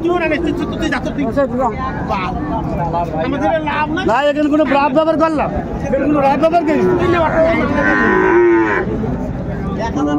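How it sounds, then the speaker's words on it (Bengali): Cattle moo loudly and repeatedly amid a busy crowd of overlapping voices at a livestock market in Dinajpur selling Sahiwal bull calves, several animals calling close by over constant chatter. "বেশ সুন্দর গরুটি শাহিওয়ালের ষাঁড় বাচ্চা"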